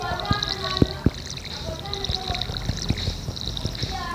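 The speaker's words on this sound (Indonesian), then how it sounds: "kita siram-sirami dulu tanaman-tanaman kita yang baru aja ditanam" Water pours and trickles steadily as freshly planted crops are watered in Stardew Valley, with background music and scattered soft clicks.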